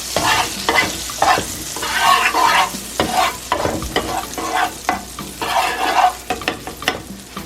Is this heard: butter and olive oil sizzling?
yes